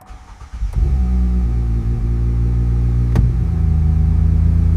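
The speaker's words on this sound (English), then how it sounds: "The ignition sequence has been initiated, and the engine is now fully operational." A Pagani Zonda hypercar engine cranks and catches after a brief whir, then settles into a loud, steady, deep running rumble close by, with one sharp click partway through.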